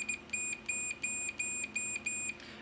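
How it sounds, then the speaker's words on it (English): Digital multimeter in continuity mode, its probes tapped together repeatedly: a run of about seven short, high, pure electronic beeps in quick, steady succession, fairly quiet and with no talking. "when I touch the two probes together, it's just a solid beep"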